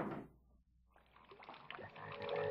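Frogs croak in a movie scene, a short burst of throaty calls that fades, then a denser chorus of croaks swells back in, fairly faint overall.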